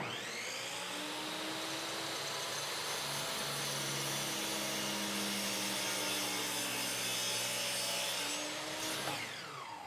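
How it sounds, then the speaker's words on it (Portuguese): A miter saw spinning at 4800 RPM bites steadily through cambará hardwood, a continuous loud whining cut with a shifting tone that ends as the blade winds down, with no talking. "dá pra sentir que a serra tá muito bem afiada ainda, você não precisa forçar para cortar"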